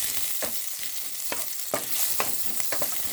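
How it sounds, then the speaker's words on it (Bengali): Chopped onion and green chilli fry in hot oil with a constant close sizzle, broken by repeated scraping knocks of a spatula stirring the pan. "পেঁয়াজটাকে হালকা করে লাল করতে হবে, লাল করে ভাজতে হবে।"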